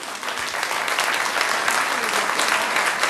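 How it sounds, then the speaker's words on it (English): Audience applause at a city council meeting, a loud, dense burst of many people clapping that holds steady for the whole stretch. "Rarely does he get applause"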